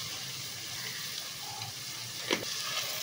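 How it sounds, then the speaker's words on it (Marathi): Ginger-garlic paste and Kashmiri chili powder sizzle in a hot pan for butter chicken, making a dense, constant frying hiss with a brief stirring scrape partway through. "आता आपण हे परतून घेऊ काश्मीरी मिरची पावडर"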